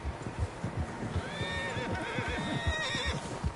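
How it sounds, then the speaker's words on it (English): Several horses whinny with long, wavering neighs over fast, rhythmic hoofbeats in the video game Red Dead Redemption. The neighs overlap and fill the scene, and there is no talk. "Horses, quite a few of them."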